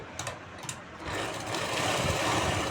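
Sewing machine stitching fabric, a faint rapid whirring run that starts after a few light clicks and continues steadily to the end.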